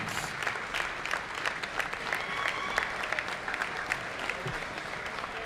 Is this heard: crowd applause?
yes